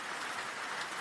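Steady rain falling at night while sitting inside a parked car, a dense even hiss of drops on the surface with no gaps and no voices.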